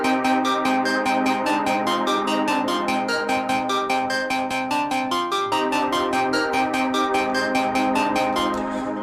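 A stock Omnisphere pluck synth preset for hard rolling techno plays alone, bright bell-like notes repeating in a steady fast rhythm with sustained harmonic tones throughout.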